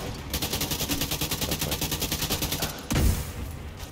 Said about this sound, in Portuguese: o que é que está a disparar de lado? É a torreta.